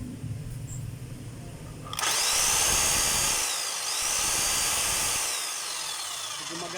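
A DeWalt D25899 demolition hammer switched on for a test run after repair: quiet room tone, then a sudden loud, steady mechanical roar with a whining tone that dips briefly and resumes, continuing close up for several seconds.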